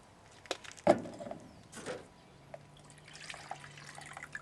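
Water pours and drips out of a filter after a test burn, a few brief splashes and trickles, fairly quiet, with a soft continuous trickle toward the end.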